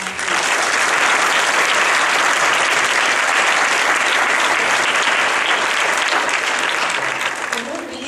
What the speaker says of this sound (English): Please join me in applauding this group one more time.